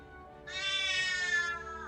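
A house cat meows loudly and close by in one sustained, drawn-out complaining cry that trails off, with no talk over it.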